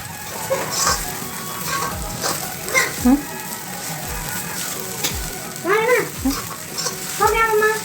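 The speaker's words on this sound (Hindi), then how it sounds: "साबूदाना डाल के मैं हाँ चम्मच ला चला देता हूँ।" Sago khichdi is stirred with a spoon in an iron kadai over a constant frying sizzle, with rhythmic scraping strokes roughly every second and short tonal, voice-like calls near the end.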